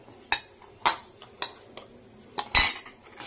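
Spoon clinking against the sides of a pot while kulfi ice cream mixture is stirred, a series of sharp metallic taps at irregular intervals, close and moderately loud with quiet gaps between.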